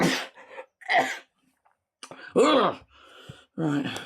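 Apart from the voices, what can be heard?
sneeze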